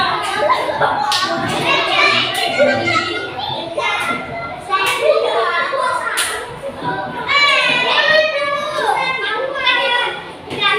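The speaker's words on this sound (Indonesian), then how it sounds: "tepuk tangan untuk kelompok Aridan" A classroom of children claps for a student group, with uneven bursts of clapping mixed into loud, lively children's chatter and shouts throughout.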